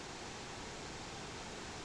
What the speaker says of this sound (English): Wow, it's beautiful. Beautiful waterfall.